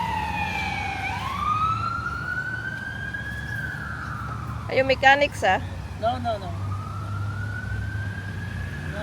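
An ambulance siren wails past in a street, a rising and falling tone that dips and then climbs again, fairly distant, while people talk briefly partway through.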